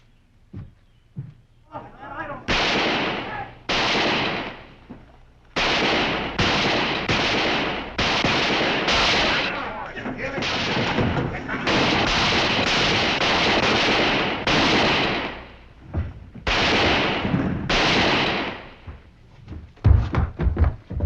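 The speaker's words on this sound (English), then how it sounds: "Tony Levitt and the Bar Q hand just shot it out." Gunfire in a Western shootout between cowboys, with a rapid series of loud, sharp shots crackling in bursts and short pauses, close and dominating, with voices mixed in.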